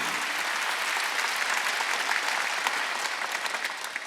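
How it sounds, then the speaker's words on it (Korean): A church congregation at a Wednesday worship service gives a sustained round of applause, many hands clapping together at a steady level with a slight fade near the end. "박수 한번 주세요."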